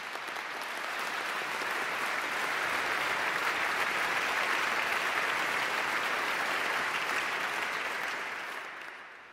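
Sustained applause from a large audience at a university convocation swells and holds, a dense wash of clapping that tapers off slightly at the end.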